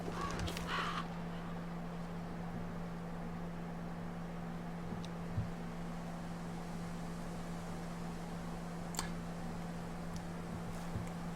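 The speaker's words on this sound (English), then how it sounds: "Nothing scared those crows." Crows caw in the horror game Slender: The Arrival, a few short calls near the start and again around nine seconds, set against a steady low hum of ambient game atmosphere.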